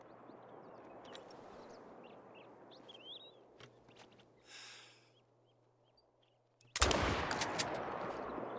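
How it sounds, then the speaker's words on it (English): Rifle fire at a bobcat in theHunter: Call of the Wild, a sudden loud shot bursting in near the end after quiet ambient wildlife sounds with bird calls, its echo lingering. "Two shots into him."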